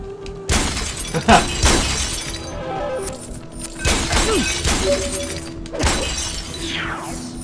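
Ancient vases shattering one after another in the Spider-Man: Friend or Foe video game, several loud glassy crashes with ringing debris, accompanied by game music and effects.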